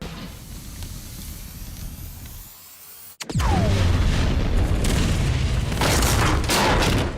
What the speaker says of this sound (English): maybe the best explosion sound effect